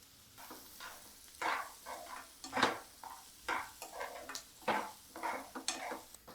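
Onions frying in a pan for a mutton gongura curry, with repeated stirring scrapes and bursts of sizzle in an uneven rhythm, close by, amid light clatter of utensils.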